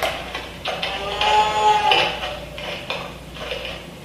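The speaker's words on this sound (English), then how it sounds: "Now you hear the sound of cow, so the thief is here." A game cow lets out a drawn-out, tonal moo in the middle, loud and near, set among scattered clinks and clatter with no speech.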